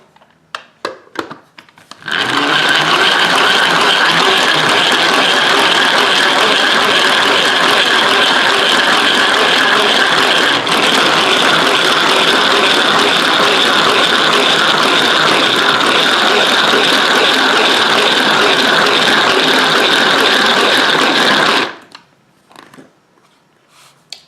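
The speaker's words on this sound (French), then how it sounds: "J'ai mis dans le Speedy Chef de Tupperware que j'ai mis au frigo avec la crème liquide qu'on va monter en chantilly." Cream being whipped in a chilled Tupperware Speedy Chef hand-crank whipper, a steady loud ratcheting whir of turning gears running continuously for about twenty seconds, alone, with brief clicks before and after.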